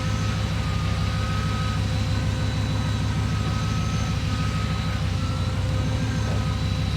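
A Chevy COE truck's engine drones steadily from the cab as it drives, a loud continuous low rumble with a constant whine over it and no pauses.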